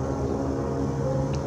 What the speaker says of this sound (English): These are our surveillance helicopters.